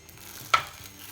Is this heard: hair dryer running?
no